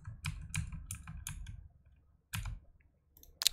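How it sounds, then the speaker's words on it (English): Someone types a PIN on a computer keyboard, producing several quick bursts of crisp key clicks close by, a pause, then a few more presses. "so type your PIN."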